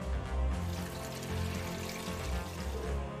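Water splashing and pouring as a character washes their face in the video game Sen no Kiseki IV, a steady close stream with soft sloshing throughout.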